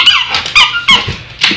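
A dog chomps on a squeaky bone toy indoors, producing several sharp rubbery squeaks in quick irregular bursts, loud and close, with no talking.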